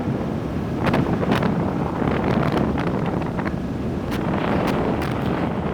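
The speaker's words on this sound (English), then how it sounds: "It is windy up here." Strong wind blasts steadily across a hilltop in Ireland near Glenveagh National Park, a loud continuous roaring buffet with gusty surges, rumbling against the microphone throughout.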